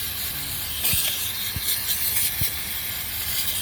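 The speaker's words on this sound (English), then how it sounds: "Shake up your brake clean and spray the disc with it." Brake cleaner sprayed from an aerosol can onto a brake disc removed from a Mercedes Sprinter ex-ambulance van, a steady loud hiss running throughout with a few short knocks mixed in.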